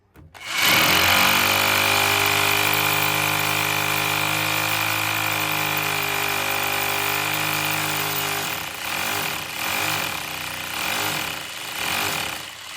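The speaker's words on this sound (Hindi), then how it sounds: "तो थोड़ा सा और हम ड्रिल कर लेंगे" A power drill bores a hole to mount an antenna, with a loud, steady high-pitched whine held for about eight seconds that then turns uneven and chattering as the bit works through the material.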